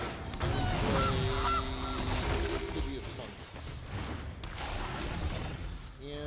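Goose card played in MTG Arena, a Magic: The Gathering Brawl game: a loud, nasal goose honk rings out near the start over game effects, followed by rumbling game sounds.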